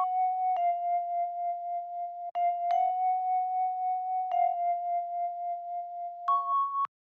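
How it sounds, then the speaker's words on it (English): Bell-like synthesizer preset called Vibes from a music production setup, sounding a few sustained mellow tones in a row, each struck with a soft attack and ringing steadily, ending on a slightly higher note. "Then I have this bell sound almost."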